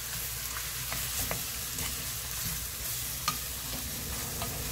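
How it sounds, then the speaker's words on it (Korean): Squid stir-fried with seasoning sauce in a pan for a Korean dish: a steady, close sizzle with scattered clicks and scrapes from the stirring utensil, and no voices. "양념을 넣고 볶아주세요."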